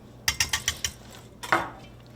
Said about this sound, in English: So we're going to continue to whisk this so we ensure that all of our ingredients are properly incorporated.